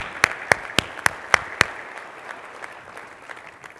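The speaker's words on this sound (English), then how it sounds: "So let's give them a round of applause as well." A short run of about six sharp, evenly spaced hand claps rings out in a conference hall at a bank's annual conference, then quickly dies away into quiet room tone.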